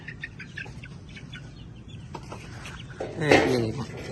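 Young chicks peep and cluck during a weight check, scattered chirps building to a louder burst of calls near the end, with faint background chatter.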